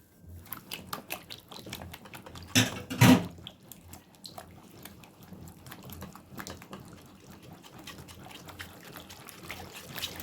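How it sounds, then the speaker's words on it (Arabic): An egg is beaten vigorously into chocolate donut batter, a wet, squelching, irregular stirring close by with a couple of louder slaps partway through. "وهنزل بالبيضة وهقلب جامد كده زي ما احنا شايفين"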